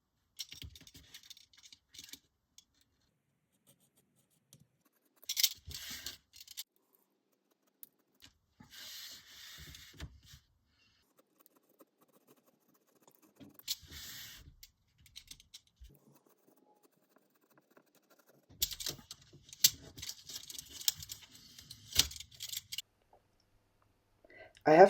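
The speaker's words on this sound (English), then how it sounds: "Then I cut along the red line with a craft knife." A craft knife cuts through a thick cardboard template stuck on with double-sided tape. Short scratchy, clicking cutting strokes come in bursts with quiet pauses between them, close and fairly faint.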